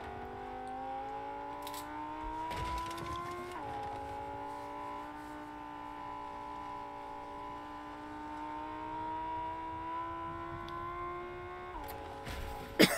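A car driving in Fortnite, its engine holding a steady mid-pitched drone with slight pitch shifts, fairly close and moderate in level, ending in a brief thump.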